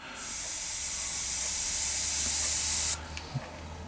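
An Iwata HP-M1 airbrush sprays in one steady, close hiss that lasts about three seconds and then cuts off. A couple of faint small clicks follow, and no one speaks.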